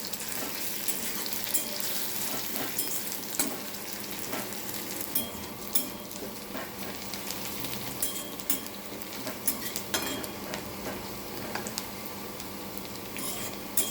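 Chopped garlic sizzles and crackles in hot oil in a pan, a steady close frying hiss dotted with sharp pops and a few stirring scrapes, with no voices.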